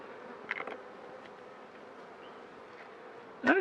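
Honeybees buzzing steadily around an open hive during a spring inspection, a continuous near drone with a couple of brief louder passes close to the microphone.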